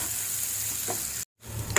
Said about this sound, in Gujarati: મિક્સ કરશું અને ટામેટા થોડાક સોફ્ટ થઈ જાય ત્યાં સુધી આને પાકવા દઈશું